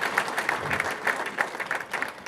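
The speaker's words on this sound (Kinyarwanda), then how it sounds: "Tuyikomere amashyi yo Mana" A church congregation applauds together in rhythmic clapping, a dense, steady patter of many hands that rises and falls slightly, close and lively throughout.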